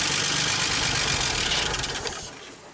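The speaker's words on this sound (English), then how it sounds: "well, nothing wrong with that engine." A 1946 Dodge truck engine runs steadily just after its first start in decades, a loud, continuous mechanical drone that softens toward the end, with no talking.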